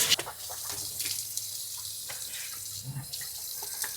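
A tap runs steadily into a sink nearby while someone brushes their teeth at home, giving a continuous splashing hiss with small changes in the flow and no talking.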